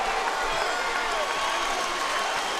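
Boxing arena crowd at the Roy Jones Jr. versus Jeff Lacy fight, a steady roar of cheering and applause that holds at an even level throughout, with no single voice standing out.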